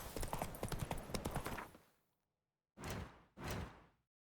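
Geralt's horse Roach in The Witcher 3 video game, a quick run of hoof clip-clops that fades out, then two separate louder thuds of hooves or movement after a short silence.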